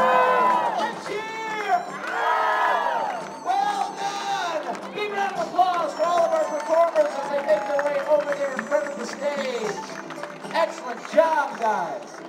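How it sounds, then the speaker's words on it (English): A crowd at a Disneyland Lunar New Year family celebration party cheers and whoops with excited shouting voices, children among them, loud and lively, with rhythmic bursts of clapping mixed in. "All right, and clap, clap, clap. And cheer."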